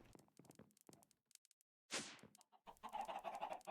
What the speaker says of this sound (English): Just a couple of chickens.